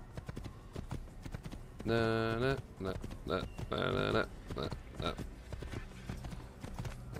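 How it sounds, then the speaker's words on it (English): Hooves of a galloping horse in the Assassin's Creed video game beat in a quick steady clip-clop, with a couple of loud whinny-like calls and someone talking briefly. "get this gallop on the go."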